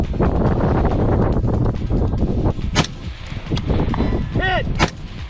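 Rifle shots at a windy outdoor shooting competition stage during a rucking two-gun biathlon, a few sharp cracks standing out over steady roaring wind noise.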